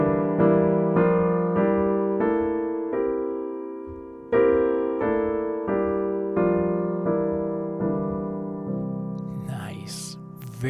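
A C dominant Mixolydian scale harmonized in locked-hands block chords, moving step by step as a rising then repeating run of full, sustained chords, played alone and clearly, with a little faint noise at the very end.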